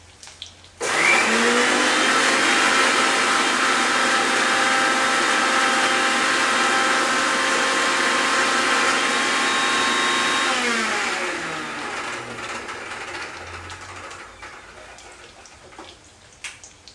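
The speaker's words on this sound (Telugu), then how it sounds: "మిక్సీ పట్టుకొచ్చుకుందాం." An electric mixer grinder whirs loudly while grinding onion for a kurma, starting abruptly, holding a steady high whine for about ten seconds, then winding down as the motor slows, followed by quieter kitchen noise.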